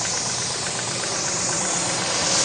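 A car wash pressure washer runs at high pressure with its adjuster near maximum, giving a steady, loud hiss and motor drone that swells slightly toward the end, with no one talking.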